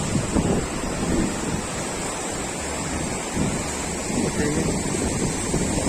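River water rushing and flowing near Pahalgam in a cool mountain setting, a dense, steady wash of broad noise close by, with wind buffeting the microphone and no talking.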